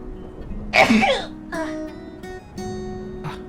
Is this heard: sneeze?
yes